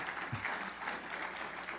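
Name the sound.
audience applause at awards ceremony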